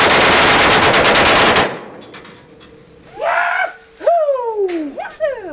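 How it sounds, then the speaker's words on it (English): A fully automatic weapon fires a single loud, rapid burst at pumpkins outdoors, about a second and a half of tightly spaced shots, followed by excited whooping voices. "There's nothing like shooting a fully automatic weapon first thing in the morning."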